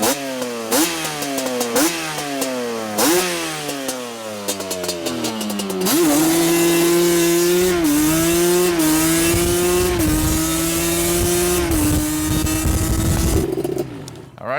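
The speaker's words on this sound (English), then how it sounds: "I'm gonna ride it up and down a couple of times. That way you guys get to hear it." A Yamaha Banshee ATV engine revs up repeatedly with rising pitch in quick pulls, then holds a loud, steady drone as it rides past nearby. The engine note wavers slightly throughout.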